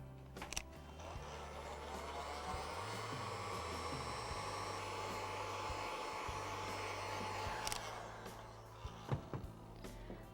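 Hair dryer blowing on a wooden lid freshly painted lilac: a steady, loud whirring whine runs for several seconds, then cuts off, leaving faint handling noises.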